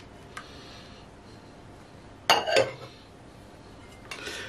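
A utensil stirs a shepherd's pie filling of home-grown vegetables and peppers in a metal pot, making a faint scrape and then a short burst of clinks and knocks against the pot, with one more clatter near the end.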